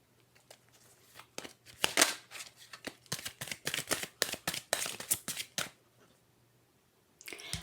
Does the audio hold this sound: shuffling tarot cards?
yes